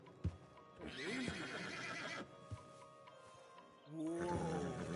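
Stallions in the Red Dead Redemption 2 video game whinny loudly and shrilly in two bursts, with hoof clip-clops and outdoor ambience between them.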